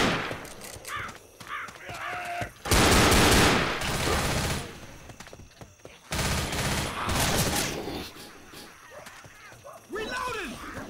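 Gunfire from the zombie shooter Left 4 Dead, loud bursts of rapid automatic shots in two main volleys with scattered single cracks, set against in-game clatter and effects.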